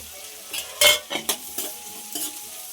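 Spices fry in hot oil in a home kitchen while a spoon stirs them, giving a soft background sizzle broken by several sharp scraping and clinking strokes against the pan, close and clear, with no talking.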